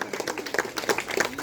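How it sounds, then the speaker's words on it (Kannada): An audience at an Independence Day celebration in St John Paul II church claps in congratulation, a short burst of dense, moderately loud applause. "ಎಲ್ಲರೂ ಚಪ್ಪಾಳೆಯ ಮೂಲಕ ಅಭಿನಂದಿಸಬೇಕಾಗಿ ಕೇಳಿಕೊಳ್ಳುತ್ತೇನೆ"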